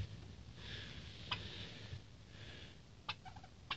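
Bourbon Red turkeys make soft, distant gobbling and clucking noises over a faint background hiss, with a few brief sharper calls near the end.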